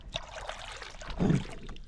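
A hand dips into clear pond water, making a short, soft splash and swirl midway through against quiet outdoor background.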